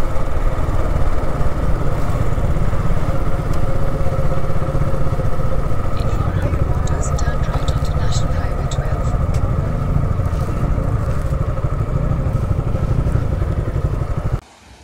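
A motorcycle engine runs steadily on the road ride to Bakkhali beach, a loud, continuous drone with rattling clatter that holds for about fourteen seconds before cutting off abruptly at the end.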